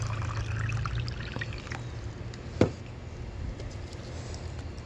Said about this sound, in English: You just fill it with water.